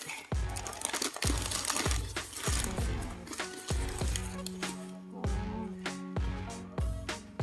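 Newspaper wrapping sealed with clear tape is pulled open around a dragon's-tongue plant, giving steady loud crinkling and crunching with repeated sharp paper rustles throughout.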